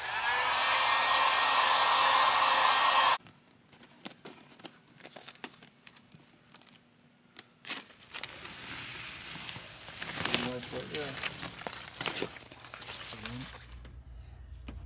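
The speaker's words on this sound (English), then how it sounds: "hair dryer's coming out." A loud hair dryer blows steadily for a few seconds, then cuts off, leaving quieter rustling, clicks and scattered handling noises.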